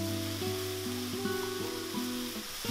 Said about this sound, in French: Je fais revenir à feu vif tous les légumes pendant 2 à 3 minutes.